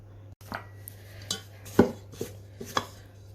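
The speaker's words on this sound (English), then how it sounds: "going to take this out and give it a good mix with the spatula" Brownie batter for red velvet cheesecake brownies is stirred with a spatula in a bowl, giving a few soft scrapes and light clinks against the bowl over a low steady hum.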